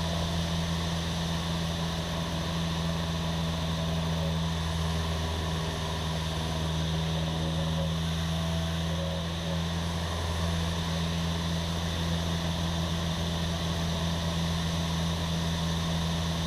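Propeller airplane in flight through an aileron roll, a steady, loud engine and propeller drone holding a constant hum throughout with no voices.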